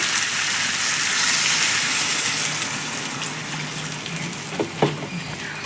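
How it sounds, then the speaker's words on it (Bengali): Water gushes steadily into a pan of rohu fish curry with cauliflower and potato, a loud pour that tapers off, followed by a few light clinks close by. "এবারে এখানে জল অ্যাড করে দেবো পরিমাণ মতন"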